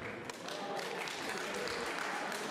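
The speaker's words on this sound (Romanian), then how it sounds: "Vă rog, aplaudați dacă sunteți." A comedy club audience claps briefly at a stand-up show, a dense patter of hands with some murmuring.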